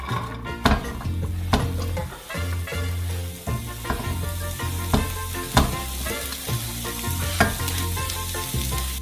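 Ground beef and vegetables fry in two pans on a stovetop with a continuous sizzle and occasional stirring scrapes, heard close up over a looping background beat, with no talk.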